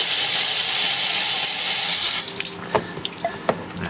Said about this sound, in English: So this is reverse flushing it